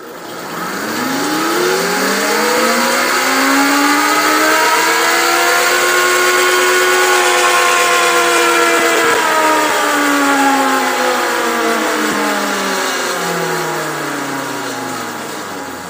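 A KXe electric motorcycle runs on a dynamometer test bench, its motor whine rising smoothly in pitch through the middle of the run and then falling again. The loud, steady electric tone sounds alone, with no exhaust note.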